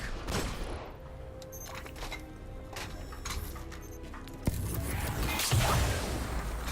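Sleeper Simulant exotic weapon fired from the hip in Destiny, giving a few sharp energy bursts and whooshes over steady game ambience, with a heavier impact near the end.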